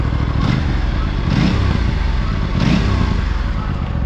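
An Aprilia two-cylinder sport motorcycle engine runs loud and close, its steady rumble swelling with a few short throttle blips spaced about a second apart.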